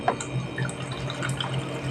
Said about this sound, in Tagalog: Ngayon ay lagyan ko muna ng tubig, guys, para lumambot ang ating isda.